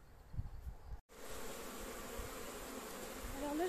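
Honeybees buzz at a backyard apiary in a steady, close hum with a brief momentary dropout, the droning swelling slightly louder toward the end.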